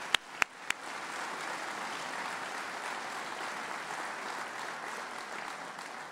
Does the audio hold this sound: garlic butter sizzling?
no